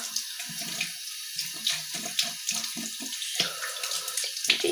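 Tap water runs steadily into a sink while something is washed under it, a close, continuous splashing stream with small shifts as hands move through the flow; no one speaks.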